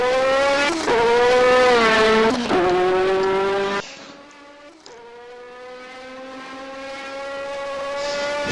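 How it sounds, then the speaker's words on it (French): A Norma 2-litre race car engine in a hillclimb racing video game, loud and high-revving, climbing through the gears with sharp shift breaks and a brief drop before building again, with no voices. "on est avec Charlie Pâtissier au volant de la Norma"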